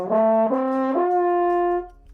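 A mellow French horn plays three sustained, descending notes on its F side, the last held longest before fading, with no other sounds.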